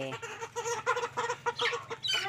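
Chickens on a rural Lao village homestead cluck close by in a rapid, uneven run of short calls, with no talk.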